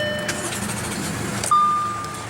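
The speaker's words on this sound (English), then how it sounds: "what you're hearing is that 3-liter supercharged V6" Audi Q7 with a 3.0-litre supercharged V6 starting up nearby: a brief starter crank followed by the engine catching and settling into a steady idle, accompanied by a thin high whine.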